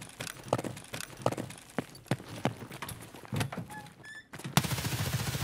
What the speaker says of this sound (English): I lay down a base of fire in case they decide to push around the corner towards me